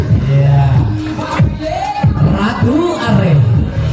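A crowd at a school fashion show cheers and whoops loudly and continuously while voices call out among them, a dense, lively audience reaction.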